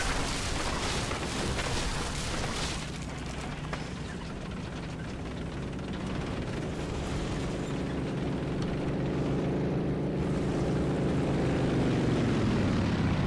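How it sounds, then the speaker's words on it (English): Aircraft engines droning in War Thunder combat, a loud continuous roar with rumbling explosions early on, then a steady engine tone that rises and falls as planes pass overhead. "There's planes. I'm scared. I freeze up when I hear planes."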